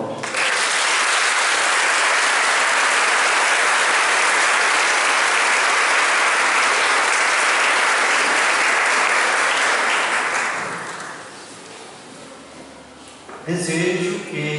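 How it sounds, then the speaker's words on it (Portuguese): A church congregation at a parish Mass breaks into loud, sustained applause for their priest's birthday, dense clapping that fades after about ten seconds into quieter room noise, with a voice returning near the end. "para que eu peço uma salva de palmas."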